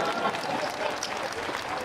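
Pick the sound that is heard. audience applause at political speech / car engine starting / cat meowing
audience applause at political speech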